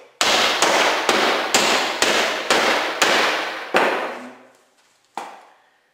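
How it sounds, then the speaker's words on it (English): Seven sharp, loud cracking blows as a rolling pin crushes candies in quick, steady succession, each ringing out briefly, then a pause and one final hit. "Rolling pin, candies, crush away."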